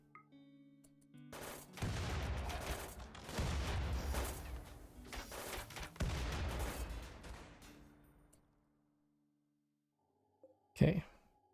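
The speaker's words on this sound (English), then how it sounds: "We can just bloody shoot the turrets" Video game gunfire aimed at turrets, dense bursts of rapid shots and booms for several seconds, then a pause and one last sharp blast, with a player talking faintly underneath.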